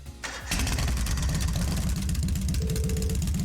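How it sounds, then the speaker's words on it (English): A motorcycle engine in the video game Trails of Cold Steel turns over and catches, then settles into a loud, steady, throbbing idle, with a brief higher tone near the end. "Right then, first is starting up the engine."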